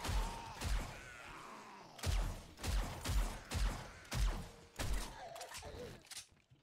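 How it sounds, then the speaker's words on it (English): Gunshots in the zombie survival game 7 Days To Die during a country horde night, fired as about six heavy separate bursts spaced roughly a second apart, loud and close, with low groaning in the gaps. "I just shot her. She's still alive."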